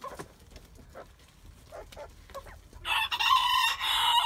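A rooster in a backyard poultry coop lets out a single loud, drawn-out crow near the end, after a stretch of quiet rustling and faint clucks from the hens.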